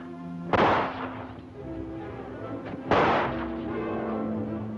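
Two sharp gunshots from a 1934 adventure film serial, loud and close with echoing tails, spaced a couple of seconds apart over a steady hum.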